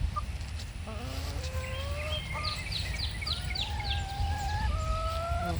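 Farm chickens cluck and call at close range over a steady low background rumble, with a string of short quick clucks and some longer drawn-out calls overlapping.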